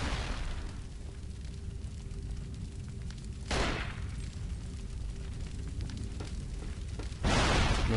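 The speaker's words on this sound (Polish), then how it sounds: "Okej, chyba wszystko tutaj wybuchło już." Two loud, sudden explosions in the video game Cold Fear, about four seconds apart, break through a steady low rumble and hum, with no talking.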